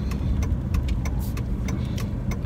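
Car driving through Saturday traffic in Orlando, a steady low engine rumble and road noise heard from inside the vehicle, with faint rhythmic ticking over the drone.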